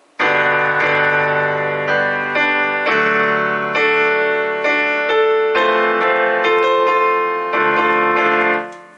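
Yamaha DGX 660 digital keyboard played hard at high volume, with dense sustained chords struck in a steady sequence of loud, ringing attacks, close and alone without talk.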